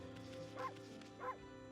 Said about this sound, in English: We have a dedicated bark button